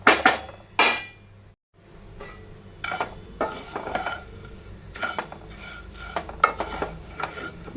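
Vermicelli roasting in ghee in a pan, stirred with a spoon: scraping, rasping strokes and occasional metallic clinks against the pan, close up and irregular.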